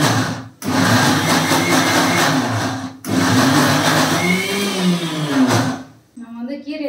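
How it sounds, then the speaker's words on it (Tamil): A kitchen mixer grinder whirs loudly as it grinds spinach, running in three bursts with short pauses between them, and a voice speaks briefly after it stops. "கீரையை மிக்ஸில வச்சு அரைக்க போற."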